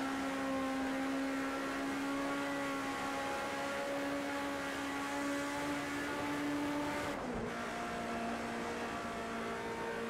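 BMW 2002 Stanceworks Edition race car in Project Cars 2, driven near 200 km/h on a snowy Nordschleife: a loud, steady engine drone held high throughout, with a brief dip and shift in pitch like a gear change near the end.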